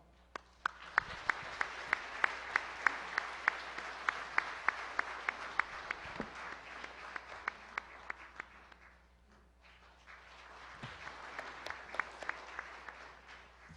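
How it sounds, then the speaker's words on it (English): Applause from a gala banquet audience welcoming a guest speaker, a moderate wash of many hands with a few sharp nearby claps standing out. It dips briefly before swelling again and fades toward the end. "Please give a warm round of applause to Dean Christopher Hill."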